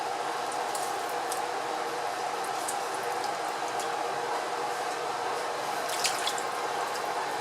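Chicken pieces washed with half a lemon under a running kitchen tap, a steady, even rush of water throughout with faint drips.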